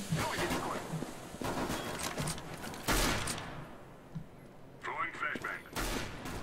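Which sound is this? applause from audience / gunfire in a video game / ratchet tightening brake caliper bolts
gunfire in a video game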